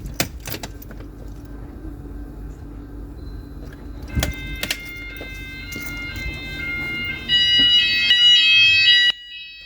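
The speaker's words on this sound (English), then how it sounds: "Okay, there we go, that was very loud." House fire alarm system under test: scattered clicks and knocks lead into a loud, piercing electronic alarm tone that sounds for a couple of seconds, then cuts off abruptly.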